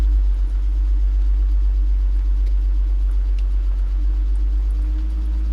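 A car with 106,000 miles on it runs steadily just after starting, a constant low engine drone at close range with a faint higher hum riding on top and no one speaking.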